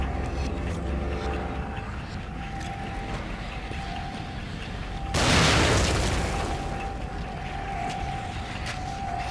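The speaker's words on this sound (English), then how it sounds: "I think I want to lead on a grenade." A grenade explodes in the video game The Evil Within, a sudden broad boom midway that swells and fades over about a second against a constant loud game ambience.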